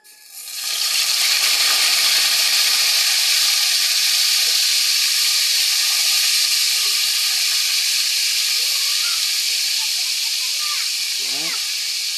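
Marinated pork fries in hot oil that pops and spits. A loud, continuous hiss and sizzle runs throughout, with a brief voice-like sound near the end.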